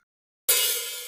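A single open hi-hat struck on a drum kit after a moment of silence: a bright, sizzling metallic wash with a sharp attack that rings on and slowly decays, heard alone.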